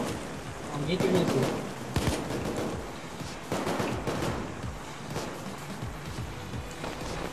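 Rapid hip-fire gunfire from a Payday 2 heist shootout, dense overlapping shots and bursts crowding the scene at close range, with voices talking over the noise.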